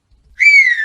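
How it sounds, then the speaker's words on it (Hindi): A woman, a daughter-in-law tied to a chair, gives a single sustained whistle lasting about half a second, a clear, bright tone that dips slightly, heard alone against silence. "सास को देखते ही दोबारा सीटी बजाने लगती है।"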